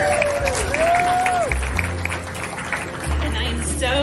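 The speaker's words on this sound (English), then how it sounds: "I'd like a round of applause for the Chamber" A Chamber of Commerce anniversary crowd at a downtown venue gives a round of applause, steady clapping mixed with crowd noise and a whistle-like tone, with voices audible underneath.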